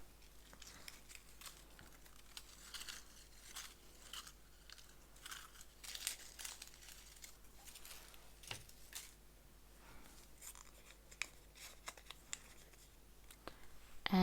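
Hands rummaging through small folded paper slips numbered one to ten, a faint, close crinkling and rustling with soft crunches and scratches that continues steadily, with no talking.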